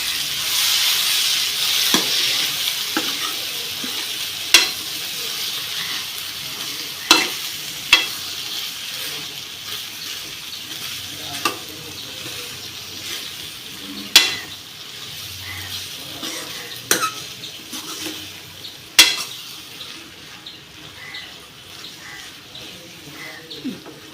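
A Kerala-style beans and banana stem thoran is stirred in a pan: a soft frying hiss runs underneath about eight sharp, well-spaced spatula knocks against the pan.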